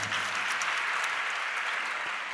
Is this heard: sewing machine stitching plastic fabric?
no